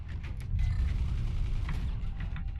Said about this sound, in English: I close the door, I'm like, nope.